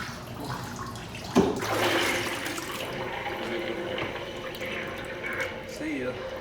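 A giant novelty toilet flushes down a load of pink slime with a sudden loud gush, then a sustained churning, gurgling water rush that carries on steadily to the end.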